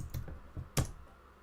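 Quick computer keyboard typing, a short run of light key clicks ending in one sharper, louder keystroke, alone in a quiet room.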